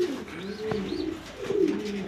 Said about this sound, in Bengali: বাগা কবুতর, গ্রিজেল বাগা, মাদির একদম ফ্রেশ